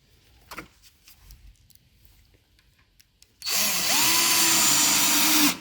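A power drill drives small screws into the door panel of a shoe cabinet during assembly, a loud steady whirring burst that starts after quieter handling clicks and runs for about two seconds.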